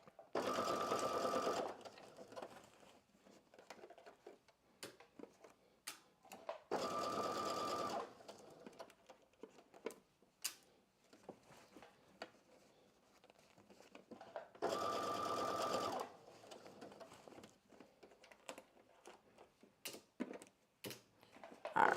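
A sewing machine bastes fabric with a 3/8 inch seam allowance while sewing a spring Juliette top from McCall's 8386, running in three loud, steady bursts of about two seconds each, separated by quieter clicks and handling noise.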